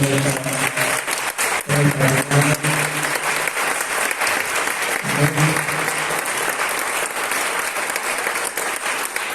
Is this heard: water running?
no